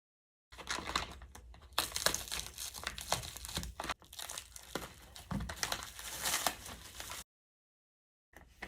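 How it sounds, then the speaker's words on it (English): Shrink wrap is peeled and torn off the packaging of an automation track system, giving close, continuous crinkling and crackling with sharp tearing bursts, then a pause. "Carefully remove the shrink wrap from the outside of your packaging."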